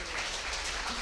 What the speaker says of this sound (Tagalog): Palakpak muna sa Panginoon.